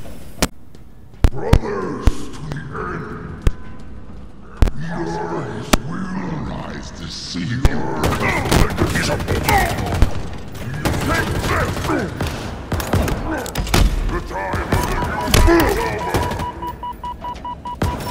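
Sharp gunshots ring out in Halo Infinite campaign combat, a few isolated cracks at first, then dense rapid bursts of weapon fire and mechanical clatter, with a player talking excitedly throughout.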